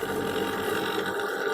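A Van de Graaff generator with a charge-carrying belt and spray comb starts up, giving a steady, loud mechanical whir and hum with a faint ratcheting texture running throughout, with no voices.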